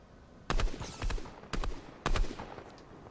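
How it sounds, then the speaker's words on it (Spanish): Gunfire in the Fortnite Battle Royale video game: four distinct bursts of shots, each a sharp rattle of several rapid reports, spaced about half a second to a second apart and heard fairly faintly, with no talking over them. "he escuchado disparos"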